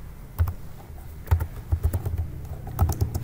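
Quiet, irregular keystrokes on a computer keyboard while code is written, individual clicks and short flurries at close range with no talking.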